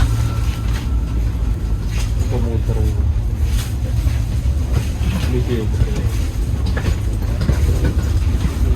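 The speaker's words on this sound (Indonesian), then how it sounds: "sekarang kereta api Probowangi sudah berangkat dari stasiun Sidoarjo" Probowangi passenger train pulling out of Sidoarjo station in Indonesia, heard from inside as a loud, steady rumbling roar with some faint rhythmic clacking and muffled voices underneath.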